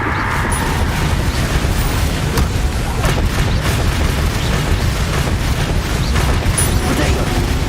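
Confringo blasting-spell explosions in Hogwarts Legacy, a loud, dense run of booming bursts and rumbling impacts layered with game combat noise, with a voice shouting spell names over it.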